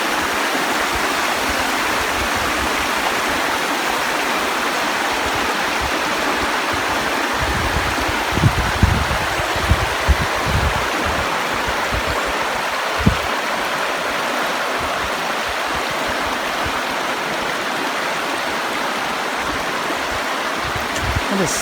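Creek water rushes steadily over rocks in Pine Creek Gorge, north central Pennsylvania, a close, continuous flowing wash with a few small splashy knocks midway.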